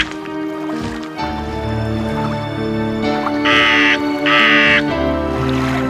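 A raven gives harsh, rasping caws, two strong calls near the middle, loud and close above music and a few dripping water sounds.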